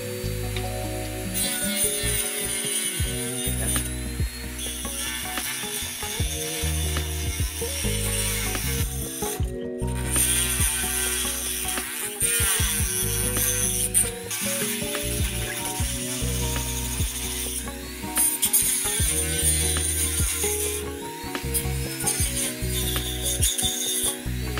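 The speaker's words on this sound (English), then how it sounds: "let's try to cut it off using the cutting machine." A cutting machine slicing open the plastic casing of an Apple 20W charger, giving a continuous loud grinding and whirring with shifting pitch and brief pauses for about 25 seconds.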